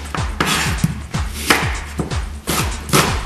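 A knife chops onions steadily on a cutting board, sharp close thuds repeating roughly every half second, with no voices.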